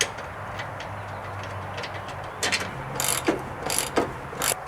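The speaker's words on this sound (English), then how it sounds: "3/8 socket, ratchet, and extension" A 3/8 ratchet with socket and extension turning 14 mm nuts during a Mitsubishi Lancer motor mount replacement, giving a few short, close clicking bursts over a low background hum.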